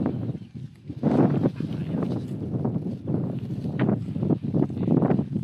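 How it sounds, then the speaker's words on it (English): Gusting wind on the Isle of Lewis in the Outer Hebrides, blowing near standing stones behind a hill, roaring across the microphone in uneven waves with louder surges throughout. "How is it windy? I'm behind a hill."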